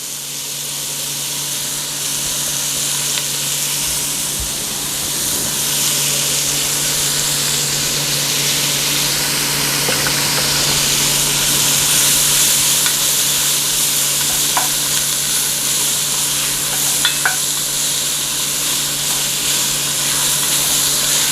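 Bacon and jalapeno sauté in a pan with a steady, loud, broadband sizzle that holds evenly throughout, with a few faint pops and ticks on top.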